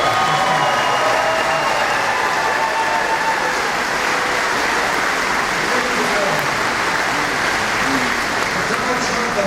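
Crowd at a political rally applauding steadily, a dense, continuous wash of clapping that stays loud and even throughout.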